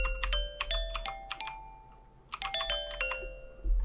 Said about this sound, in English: That sounds like a glockenspiel if you ask me